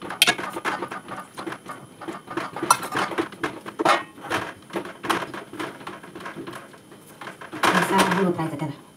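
A spoon scrapes and knocks against a cooking pot while wheat kurdai batter is stirred, giving irregular metallic clinks and scrapes, close by, with a louder cluster near the end.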